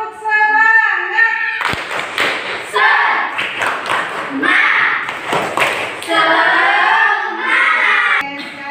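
A class of Indonesian schoolchildren performs the rhythmic 'tepuk semangat' group clapping chant in a classroom before a maths lesson, loud sharp claps in patterned bursts mixed with children's chanting voices, close and filling the room.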